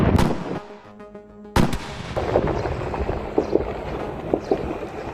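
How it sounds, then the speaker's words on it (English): Artillery fire and airstrikes in war-torn Khartoum, Sudan, ring out as heavy booms, one sharp blast followed by a rumbling tail and scattered lighter reports, loud and echoing outdoors. "now a constant barrage of artillery and airstrikes punctuate daily life"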